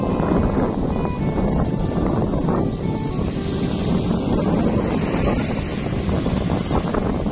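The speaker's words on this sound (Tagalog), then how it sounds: "Sarap ng hangin, viewers." Steady, strong wind buffets the microphone on a beach at San Felipe, Zambales, facing the West Philippine Sea, with a continuous broadband roar and possible surf beneath it and no talking.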